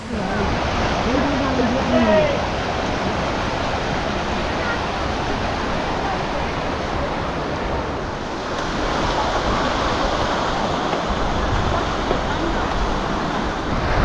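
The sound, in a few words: river flowing under Jogighat bridge, Sittong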